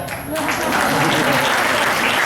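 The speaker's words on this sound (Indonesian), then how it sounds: "Tepuk tangan untuk MC yang luar biasa, Rocky Balboa ya." Audience applause for the emcee at an event, a dense, continuous wash of clapping that swells after a brief quieter start and stays loud, with voices faintly mixed in.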